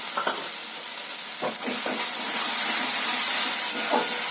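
Ginger garlic paste sizzling as it is sautéed: a loud, continuous frying hiss with a few stirring scrapes and knocks from a spoon, heard close with no voices.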